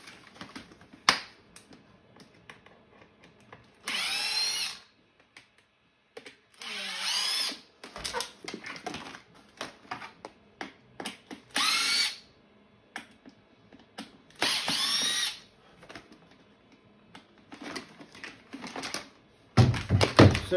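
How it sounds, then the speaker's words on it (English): Power drill backing out screws from a 5-foot Home Depot skeleton, several short whirring bursts separated by clicks, clatter and handling knocks, close and fairly loud. "we got to remove these 4 screws here"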